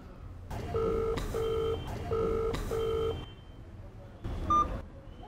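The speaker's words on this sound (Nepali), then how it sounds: "कसलाई फोन लगाउँदै हुनुहुन्छ तपाईँले" Telephone tones sound as a number is dialed: four even, steady two-note beeps in a regular rhythm, a short pause, then one brief higher beep, heard close against faint background noise.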